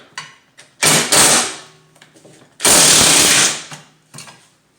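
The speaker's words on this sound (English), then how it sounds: "the first thing we're gonna do is remove these 10mm bolts here" Power tool, likely an impact driver, removing 10mm bolts from the mower deck of a Craftsman T110 lawn mower, two loud close bursts of rattling whirr with softer clicks and handling noises between.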